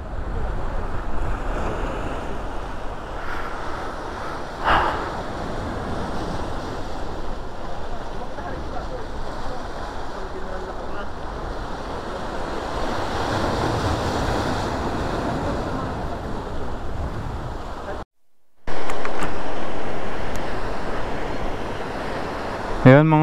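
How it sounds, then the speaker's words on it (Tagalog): Surf surges and breaks continuously against a rocky shore in Dingalan, Aurora, with wind buffeting the microphone and a brief dropout near the end. "Sarap sa tenga nung hampas ng alon sa bato."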